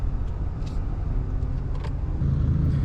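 A 2023 Ford F-350 Tremor with the 6.7 HO diesel drives off-road on sand dunes, giving a steady deep rumbling drone at moderate distance, slightly louder toward the end, with no talk.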